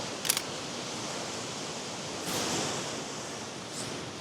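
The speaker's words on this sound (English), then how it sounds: "whenever I frame a shot and I'm standing here waiting, then the big waves are coming" Ocean waves break on a shore in a steady, broad rushing wash. One louder surge swells near the middle, and the sound is moderately distant with no voices.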